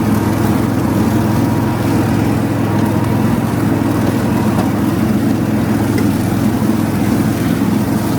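An AS enduro mower cutting tall grass, its engine droning loud and close at a steady, unbroken pitch with a rough low hum throughout and no voices.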